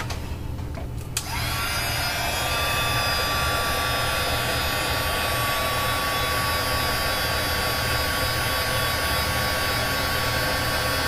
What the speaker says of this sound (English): I've got my heat gun.